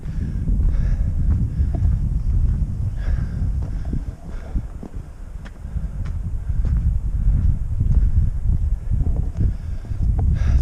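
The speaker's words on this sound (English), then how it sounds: "it's a little windy, a little chilly today" Wind buffets the microphone in a constant low rumble with gusty swells on the Angels Landing trail in Zion, steady throughout and without any talking.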